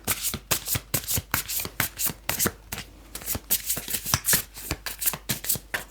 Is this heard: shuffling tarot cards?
yes